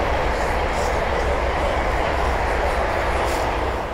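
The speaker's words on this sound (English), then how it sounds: "the next train to pass by is going to be yet another pair of London or Western Railway Class 350s" A pair of London Northwestern Railway Class 350 electric multiple units rushes past on the West Coast Main Line at Linslade, a loud, steady broadband roar of wheels and motors filling the whole span close by.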